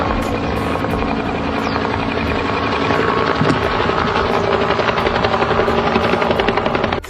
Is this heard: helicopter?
yes